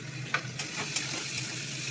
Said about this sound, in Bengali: আদা রসুন একটু ভাজা হোক